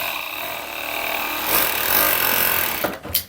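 A sewing machine runs steadily for a few seconds, stitching elastic onto a bikini with a lined fabric piece, a continuous mechanical whir that swells slightly midway before breaking off into a couple of short clicks at the end.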